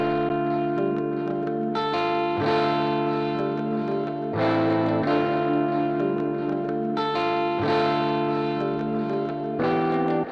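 A doubled electric guitar lead with distortion, chorus and echo rings over a sustained chord progression in a studio beat, the dense layered tones changing chords every couple of seconds, loud and continuous with no voices.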